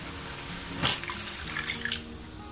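A glass of water poured into a pan of chicken livers cooking in Pedro Ximénez, a sudden splash followed by bubbling, sizzling liquid, close and moderately loud.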